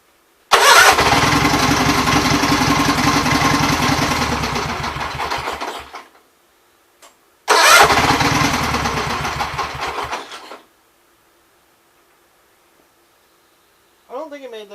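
A Gravely 8199KT tractor engine, just fitted with a new governor, roars loudly for about five seconds, cuts out, then runs again for about three seconds before stopping. A brief faint sound follows near the end.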